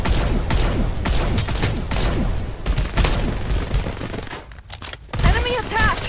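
Gunfire rattles through a Farlight 84 match, loud rapid bursts of automatic shots and booming impacts crowding together, with a brief pause before the firing resumes and a game voice calling out near the end.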